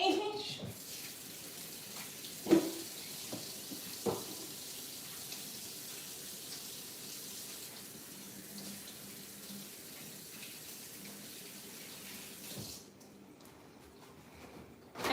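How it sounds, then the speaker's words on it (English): Tap water runs steadily into a sink as hands are washed, a soft continuous hiss with a couple of brief knocks and splashes, then the flow cuts off near the end. "Let me wash my hands."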